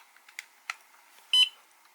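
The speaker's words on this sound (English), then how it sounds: "and then you hear a beep, starts charging" An Ultra Power smart charger gives a single short electronic beep when a battery is plugged in. The tone is clear and close, preceded by a few faint clicks from the battery being inserted.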